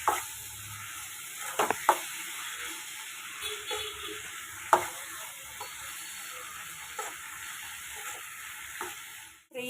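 A spoon stirring turmeric powder into tomatoes frying in a pan, with a steady sizzle and several sharp scrapes and clicks against the pan over nearly ten seconds, no voices.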